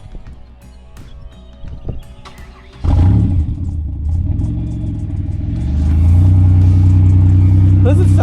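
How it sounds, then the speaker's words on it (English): Car engine revving with the exhaust open and no cat-back fitted during a ZZP stainless cat-back install: a loud, deep rumbling roar that kicks in abruptly and builds, after faint clatter and talk at the start. "with every exhaust job, we got to see what it sounds like without the anything on it."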